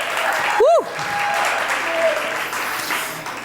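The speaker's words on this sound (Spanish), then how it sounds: "un fuerte aplauso" Congregation applause in a church service, steady clapping from the crowd with a brief whistle-like tone rising and falling near the start.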